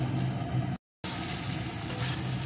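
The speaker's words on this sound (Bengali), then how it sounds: "এখন আলু ফুলকপিটাও এই মশলার সাথে একটু কষিয়ে নেব" Fried potato and cauliflower are stirred into spice paste in a pan for a paneer curry, giving a low, steady sizzle cut by a brief gap of silence, then frying on with no talking.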